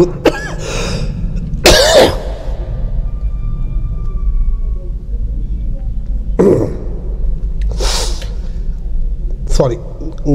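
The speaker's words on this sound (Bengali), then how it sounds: "গলাটা একটু ফেসে গেছিলো, এই জন্য কাশিটা হচ্ছিল।" A person with a hoarse, irritated throat coughs in four or five sharp, loud bursts close by, with quiet pauses between them.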